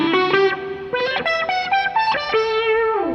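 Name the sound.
synth lead patch on Vox Starstream modeling guitar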